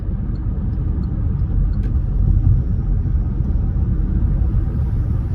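Steady low road rumble inside a moving car, continuous and fairly loud throughout, with no talk over it.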